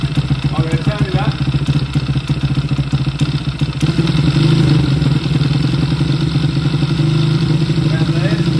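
A Zongshen single-cylinder motorcycle engine idles high, with a rapid steady close-up putter and clatter that grows a little louder and busier halfway through. Someone talks over it.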